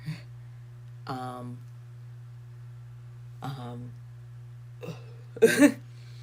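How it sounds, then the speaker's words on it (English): A person burps, a few short guttural bursts spaced a couple of seconds apart. The last burst is louder and rougher, and a steady low electrical hum runs underneath. "That was an unpaid burp."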